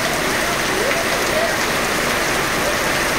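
Heavy afternoon rain pours steadily in Aroeiras, Paraíba, Brazil, a loud dense hiss filling the whole stretch with faint voices murmuring underneath.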